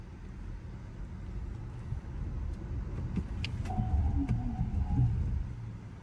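Zeekr X electric car on a test drive, heard from inside as a rising road and motor rumble that builds steadily and then eases, with faint whine and clicks, no talking.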